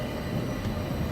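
In the PC game Agatha Christie: Murder on the Orient Express, a train begins to move with a brief, steady low rumble of carriages and rails, with no voices.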